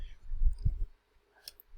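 A few crisp computer mouse clicks sound close up during a software update, short sharp taps following a brief stretch of soft low rustling.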